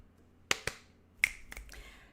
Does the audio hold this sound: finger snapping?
yes